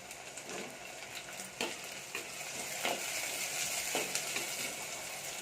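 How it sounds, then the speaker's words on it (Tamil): Tomatoes and green chillies fry in a pan for a village-style fish curry, a steady sizzle broken by a few sharp stirring scrapes, close and continuous with no talking. "தக்காளியும் பச்சை மிளகாவும் சேர்த்துக்கலாம். சேர்த்து நல்லா வறுத்துக்கலாம்."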